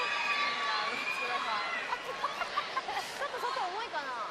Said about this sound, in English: it's quite loud in here this morning with all the school children